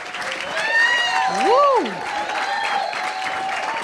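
An audience at a hip-hop stage event applauds and cheers with sustained, dense clapping, while a voice whoops loudly over the crowd.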